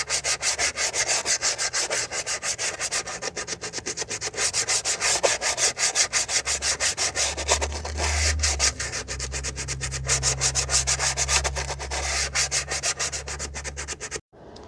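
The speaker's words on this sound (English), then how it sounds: "So just sand down the shoes now." Sandpaper rubbing the rear drum brake shoes of a 2017 Toyota Corolla 1.8, a continuous fast scratchy back-and-forth sanding, loud and close, with a low hum underneath and no talking.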